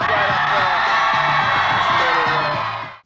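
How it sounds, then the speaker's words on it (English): A live studio audience screams, whoops and cheers loudly for Monie Love on a talk show set, a dense, sustained roar of voices that drops off abruptly near the end. "Please scream out loud"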